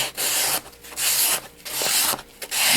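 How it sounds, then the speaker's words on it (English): A knife tang is sanded by hand with long rhythmic rasping strokes, about five passes with short pauses between them, close and loud with no talking. "you got to sand this part of it, of the knife itself, the tang there"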